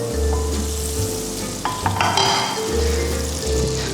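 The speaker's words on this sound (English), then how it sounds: "A bit of oil in a pan over high heat. And a bit of butter as well." Oil and butter sizzle and hiss in a pan over high heat while the fat is swirled, a steady crackling fry with a few brief clatters of the pan near the middle, with no talk.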